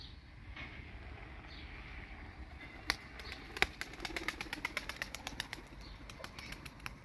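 A performing pigeon in flight: a quick series of sharp wing claps builds up and then repeats irregularly over a steady outdoor background hiss.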